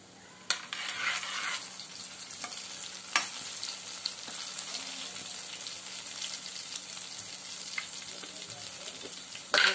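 Ingredients sizzle steadily in an oil pan as they fry until reddish, with occasional sharp clinks of a spoon stirring against the pan; no speech.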